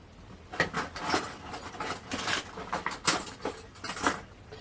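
A spoon scrapes cold process soap batter out of a container, giving a series of close, soft scraping and tapping strokes in an uneven rhythm, with no talking.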